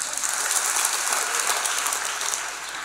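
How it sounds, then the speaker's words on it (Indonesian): A seminar audience claps together in dense, sustained applause, steady and fairly loud before easing off slightly at the end, with no voices over it. "Tepuk tangan untuk Tuhan."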